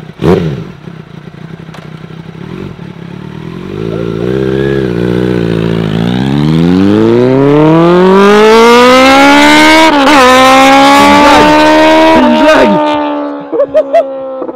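A Kawasaki Z750 motorcycle engine revs hard and loud, its pitch climbing steadily for several seconds before settling into a high sustained roar. It then drops off near the end, with indistinct voices faintly present.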